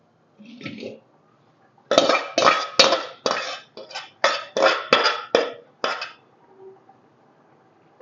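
Chicken for biryani is stir-fried in a pot, heard as a run of about ten sharp, close metallic scrapes and clanks of a spoon against the pot in an uneven rhythm, with a short voice sound just before.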